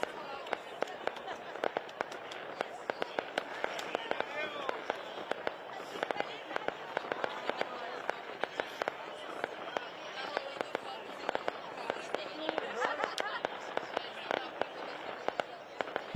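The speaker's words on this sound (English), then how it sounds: "I hear more fireworks going off" Scattered bursts of New Year's Eve fireworks crackling and popping at a distance for many seconds, with people talking over them throughout.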